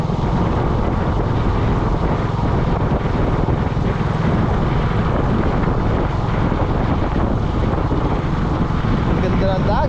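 Strong steady sea wind on a beach roars and buffets the microphone continuously, with a low rumbling wash throughout and no clear voices.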